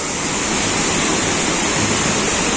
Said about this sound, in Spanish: hemos llegado a la cascada. Está bien bonita, le calculo más o menos que debe tener unos 20 metros de altura